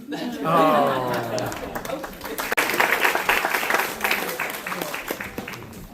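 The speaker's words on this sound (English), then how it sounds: "One more round of applause for first-time storyteller." An audience applauds a first-time storyteller at a live storytelling event, with dense clapping and crowd noise swelling after a voice speaks at the start.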